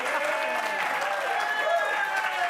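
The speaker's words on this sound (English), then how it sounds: "They're applauding me, not you, Tom." Studio audience applause on a television talk show, a dense continuous wash of clapping from a crowd, held evenly loud throughout, with voices mixed in underneath.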